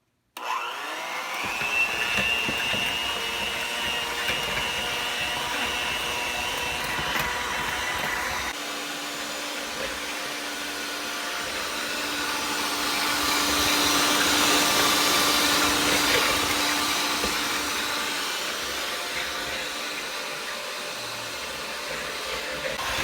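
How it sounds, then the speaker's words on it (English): An electric mixer whirs steadily on medium speed through batter, a loud continuous motor drone that shifts pitch partway through and swells before settling, with no voices. "now we're going to mix it for 2 to 3 minutes on medium speed"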